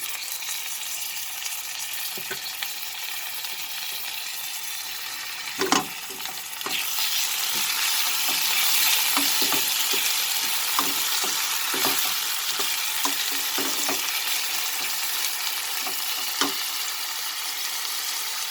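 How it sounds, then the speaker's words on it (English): Onion frying in oil for cabbage potato curry as ginger garlic paste goes in, a steady sizzle that grows louder partway through, broken by occasional scrapes and clinks of stirring. "After our onion gets slightly cooked, I am going to add the ginger garlic paste."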